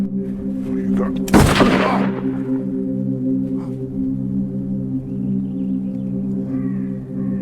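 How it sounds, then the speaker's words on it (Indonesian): A single sharp gunshot cracks out in a film scene, fired from a distance at a man, standing out loud and sudden over a steady low hum before fading into quieter background sound. "Gustaf pun meninggal juga setelah ditembak oleh Samuel dari kejauhan secara tiba-tiba"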